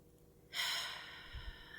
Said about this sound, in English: Take a big deep breath.